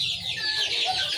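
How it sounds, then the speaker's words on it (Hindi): Desi chickens cluck and chatter close by in a brief, busy burst of fowl calls, with no talking over them. "ज़्यादा हमारे पास देसी में मुर्गे ही हैं।"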